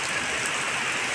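Rain falls steadily, a dense, even hiss of drops with no voices or other distinct sounds.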